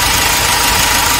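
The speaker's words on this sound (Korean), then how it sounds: "이 차 소리 한번 들어보십시오." A car engine fitted with a diesel particulate filter runs steadily nearby, a loud continuous rumbling hum with a slightly rough, knocking texture and no talking.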